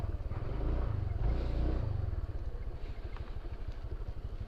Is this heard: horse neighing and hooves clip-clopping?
no